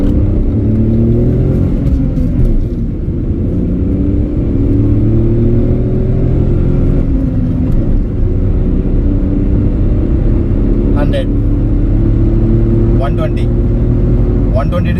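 A Tata Nexon car accelerates hard in sports mode, its engine a loud steady rumble with rising harmonic tones climbing through gears over about fifteen seconds, heard from inside the cabin with faint voices beneath.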